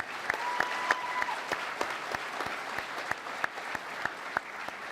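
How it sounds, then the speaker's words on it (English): A Comic-Con panel crowd gives a round of applause, fairly distant and even, with a few crisp nearby claps repeating through the steady clapping. "I think maybe we should give a round of applause for the passing of George Romero."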